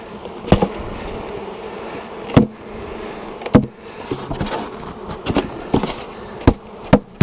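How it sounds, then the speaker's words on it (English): A swarm of bees buzzes steadily nearby, a dense droning hum punctuated by sharp knocks and thumps at irregular intervals. "We have all of these bees as well."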